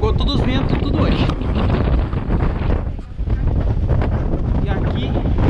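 Strong wind at Pântano do Sul beach roars and buffets the microphone in loud, continuous gusts, briefly easing before surging again.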